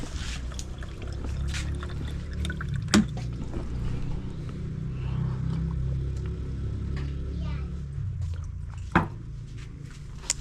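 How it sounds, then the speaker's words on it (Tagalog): A strong stream of water gushes from a manual hand pump, a steady close rushing splash lasting several seconds with a couple of sharp knocks. "Sobrang lakas ng tubig nyo."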